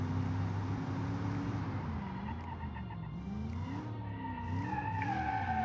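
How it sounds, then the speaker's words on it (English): Wheels spin and squeal in a BeamNG driving game as the engine drones steadily, with a rising and falling tire whine and pitch sweeps, moderately loud and continuous. "but spins the wheel so hard. I mean, touch of the throttle and it will spin"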